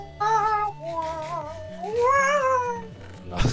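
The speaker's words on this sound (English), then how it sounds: "like a cat meowing for food" A cat in a Minecraft-style island adventure game gives several drawn-out, wavering meows close and loud, with a few short gaps between calls.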